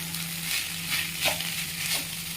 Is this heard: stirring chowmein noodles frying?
yes